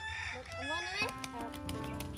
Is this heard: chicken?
yes